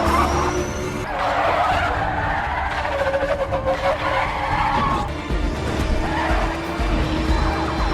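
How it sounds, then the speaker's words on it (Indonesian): Tires skid and squeal through a car chase in the 2011 film In Time, a loud, continuous rush of engine and road noise with scraping screeches, set against a dense, busy soundtrack. "segera pergi keluar untuk mengejar Will dan kejar-kejaran ala Fast and Furious pun dimulai"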